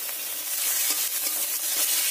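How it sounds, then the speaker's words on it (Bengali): Garlic paste and onion paste fry in a pan, a loud, dense, continuous hiss of sizzling oil with faint stirring scrapes running throughout. "যতক্ষণ রসুনের কাঁচা গন্ধটা না যায় ততক্ষণ একটু কষিয়ে নেব।"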